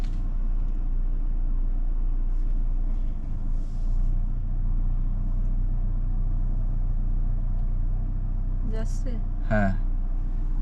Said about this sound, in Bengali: আমার গাড়ি কিন্তু আস্তে আস্তে পিছের দিক যাচ্ছে